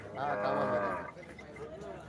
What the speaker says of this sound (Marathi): कांकर पण ये बैल चांगला असतात कामाला